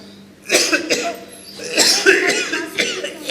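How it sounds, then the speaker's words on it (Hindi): A short burst of harsh coughing, several coughs in quick succession, close and fairly loud, with a voice murmuring in between. "मामूली खांसी है"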